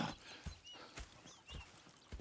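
Horses in a Red Dead Redemption 2 game scene clop their hooves at a steady, fairly quiet rhythm, with faint breathy snorts mixed in over a soft outdoor backdrop.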